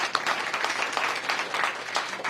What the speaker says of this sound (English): Let's applaud that again.